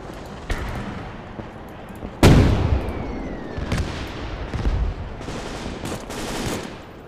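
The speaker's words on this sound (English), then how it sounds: "waiting for the artillery just to smash the lines and push up" Artillery fire in the WWII strategy game Gates of Hell, German campaign: a heavy boom lands mid-clip among scattered sharp gunshots and distant rumbling impacts, loud and layered over battlefield noise.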